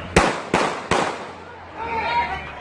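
Three sharp, loud gunshots crack in quick succession during a terrorist attack, each ringing out briefly, followed by a murmur of distant voices and commotion.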